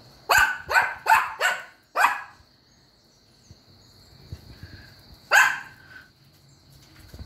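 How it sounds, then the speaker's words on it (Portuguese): A dog barks in a quick run of four close, loud barks, then a fifth after a short pause, with one more bark several seconds later; quiet background between. "Ele tá latindo pra dar água."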